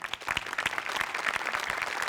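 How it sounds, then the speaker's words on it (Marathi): A studio audience at a comedy show claps for two performers, dense steady applause filling the whole stretch with sharp overlapping claps, loud and close. "तुमच्या दोघांसाठी टाळ्या"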